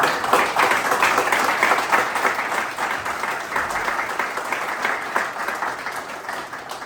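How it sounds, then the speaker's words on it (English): A room full of people gives a sustained round of applause at a Knights of Columbus council scholarship presentation, dense steady clapping holding for several seconds with no voices over it. "a resounding round of applause"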